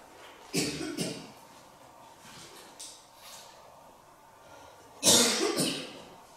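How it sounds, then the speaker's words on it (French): Several harsh coughs come in bursts, a pair near the start and a louder cluster later, with quieter throat sounds between. "C'est bizarre que vous toussez tous les deux."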